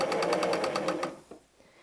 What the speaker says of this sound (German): Wir nähen wieder von unserem Stoffstück herunter.